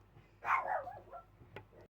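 A single dog barks once, a short sharp yelp that trails off, followed by a brief faint yip, close by with no talking.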